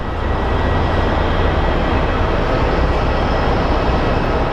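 A United Airlines airliner at Phoenix Sky Harbor airport gives off a loud, steady engine roar that holds evenly throughout, close by and with no voices over it.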